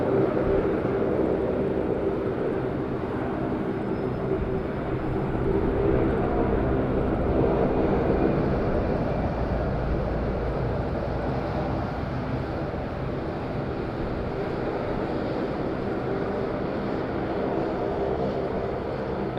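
A helicopter air taxi flies over the taxiway at Madeira Island Airport, its steady rotor and engine roar continuous and fairly loud throughout, mixed with some wind buffeting on the microphone.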